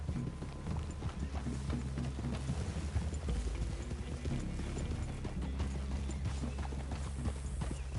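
Horse hooves clop steadily in Red Dead Redemption 2, a continuous rhythmic patter of several horses moving together over a low rumbling game soundtrack, close and fairly loud throughout.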